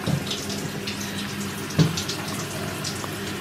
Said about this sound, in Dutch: En hij ligt nu in, onder de douche.